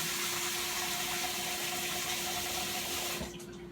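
Water from a kitchen tap runs in a steady, hissing stream for gravy in a home kitchen, then cuts off near the end.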